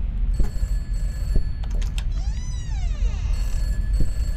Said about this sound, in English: What's ringing? There wasn't a phone though.